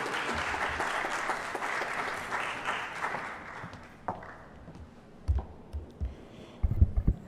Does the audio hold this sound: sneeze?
no